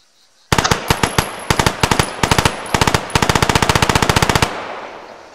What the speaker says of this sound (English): This is an MP7, which is a German submachine gun.